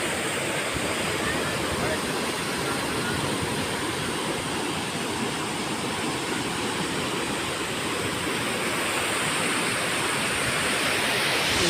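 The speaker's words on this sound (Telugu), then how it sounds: "వరదనీరు రోడ్డు వరకు వచ్చింది ఫ్రెండ్స్" Floodwater of the Kinnerasani stream rushes nonstop and loud beside a flooded road and submerged crop fields, a dense, steady roar with no breaks.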